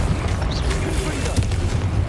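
Confringo fire spell blast in the video game Hogwarts Legacy, a deep boom that swells amid steady combat rumble, with voices faintly audible underneath.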